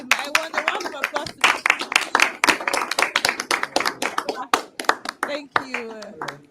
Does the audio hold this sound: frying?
no